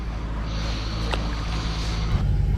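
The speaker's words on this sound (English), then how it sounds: "someone reversing a very noisy boat on the Norfolk Broads" A noisy motorboat engine reversing on the Norfolk Broads rumbles loudly and steadily nearby, its low drone shifting slightly near the end as the boat maneuvers.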